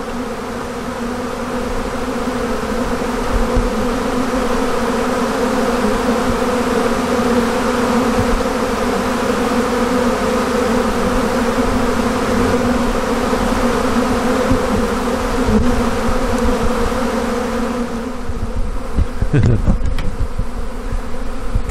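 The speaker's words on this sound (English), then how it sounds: "Got a few bees in the air." A dense, steady buzzing of many honey bees swarming, continuous and loud throughout, with a few brief closer thuds near the end.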